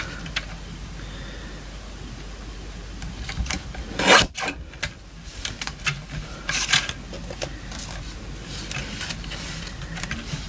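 Scissors trimming a paper butterfly craft piece, heard as soft scraping and rubbing cuts close up, with a brief sharper snip in the middle, over a steady background hiss.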